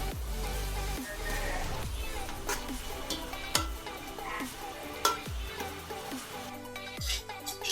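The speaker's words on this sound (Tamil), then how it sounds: "மல்லி புதினா போட்டுட்டு நல்லாவே மிக்ஸ் பண்ணிடுங்க." Coriander and mint leaves are stirred into a sizzling biryani mixture in a pan, with a steady frying hiss and repeated scraping strokes of a spoon against the pot, fairly close and continuous.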